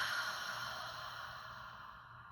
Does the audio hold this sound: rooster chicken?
no